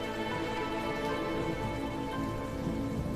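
Steady, dense rain falling on a surface, a continuous close hiss with no pauses or voices.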